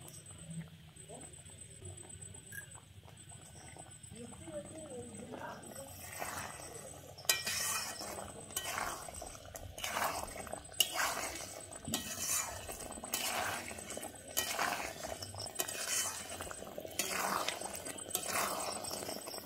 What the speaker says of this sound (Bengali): আমি এবারে কর্নফ্লাওয়ারটা দিয়ে দিচ্ছি।